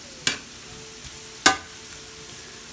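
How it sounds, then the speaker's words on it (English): Diced potatoes fry in a pan with a soft, steady sizzle, broken by two sharp scraping clacks as they are stirred. "I don't want one side to get too burnt, so just stir it every once in a while."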